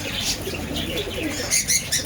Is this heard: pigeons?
yes